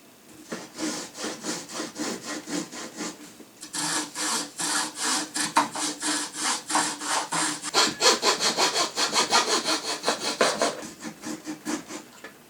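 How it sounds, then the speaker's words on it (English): Handsaw cutting through the thin wooden lid of a cigar box, close and loud, with steady rhythmic back-and-forth strokes that pause briefly near four seconds and then resume at a quicker pace. "let's get the lid of the box cut"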